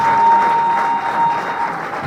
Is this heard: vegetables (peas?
no